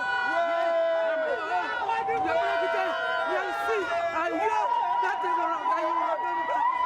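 Crowd of elderly supporters at a political rally in Côte d'Ivoire, cheering and singing in a dense chorus of voices, loud and continuous.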